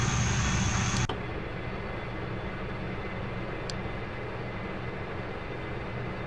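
A Dash 8 Q400 turboprop's number 2 engine starts in a flight simulator, with a high whine that cuts out after a second and leaves a steady, moderate drone of engine and airflow.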